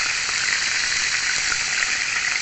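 Beef tapa frying in hot oil in a kawali: a loud, continuous, even sizzle and crackle that holds steady throughout, with no talk over it.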